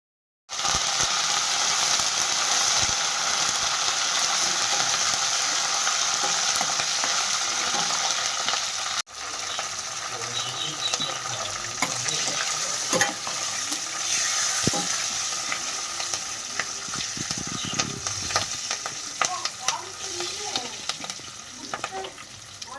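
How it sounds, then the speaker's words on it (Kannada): Mixed spicy poha for Karnataka-style gojju avalakki goes into hot tempering in a pan, giving a loud, continuous sizzle that drops after a sudden shift, then quieter frying with scraping and clicking stirring throughout, no talking. "ಕಲಸಿರೋ ಅವಲಕ್ಕಿನ ಈ ರೀತಿ ಬಿಸಿಯಾಗಿರೋ ಒಗ್ಗರಣೆಗೆ ಹಾಕ್ಬಿಟ್ಟು"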